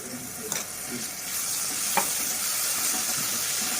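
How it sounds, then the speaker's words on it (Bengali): Green chilli, ginger and garlic paste frying in butter and oil in a pan, a steady close sizzle with a couple of light stirring scrapes along the way. "এটা ততক্ষণ ভাজবো যতক্ষণের কাঁচা গন্ধটা না চলে যাবে"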